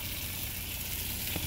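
Food cooking in a pan coated with non-stick cooking spray oil gives a steady, even sizzle throughout, close and continuous with no voices.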